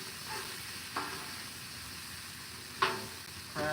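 Food with crab sizzles steadily in oil on a Blackstone griddle. The hiss is soft and constant, broken by a few sharp scrapes of stirring.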